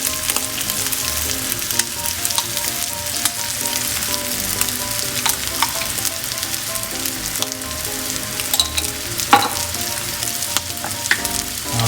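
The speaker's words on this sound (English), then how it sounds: "With my handy dandy chopsticks, I'm just gonna mix this in" Pasta with spoonfuls of pesto sauce is stirred with chopsticks in a hot pan, giving a steady close sizzle with soft scraping and clicking from the mixing, and no voices.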